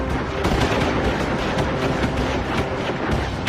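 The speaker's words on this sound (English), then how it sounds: "thousands are cut down by Union artillery and rifle fire" Union artillery and rifle fire at the Battle of Gettysburg in 1863, a dense, continuous roar of gunfire with overlapping volleys and cannon blasts, loud and unbroken throughout.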